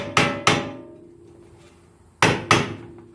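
Hammer striking the CV axle of a 1997 Honda Civic, four sharp metallic taps in two quick pairs with ringing decay, close and clear with no talking.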